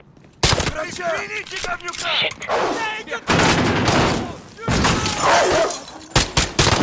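Gunfire rips through a wall in Call of Duty: Modern Warfare, loud bursts of shots and impacts filling most of the clip, with voices talking briefly between and over the firing.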